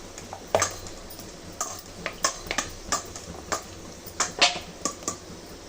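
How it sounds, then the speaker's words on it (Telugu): Dough for egg puffs being mixed by hand in a bowl, heard as a series of soft, irregular clicks and taps against the bowl with brief squishy touches, close and fairly quiet, with no talking. "పిండిని అయితే చూడండి ఇలా కలుపుకోవాలి."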